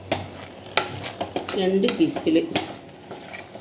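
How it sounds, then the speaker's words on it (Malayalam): A spoon stirs garam masala into biryani masala in a pan, with a few scraping clinks and a soft sizzle, while a voice speaks briefly in the middle. "ഒന്നര സ്പൂണ് ഗരം മസാലപ്പൊടി ചേർക്കണം. നല്ലോണം ഇളക്കുക."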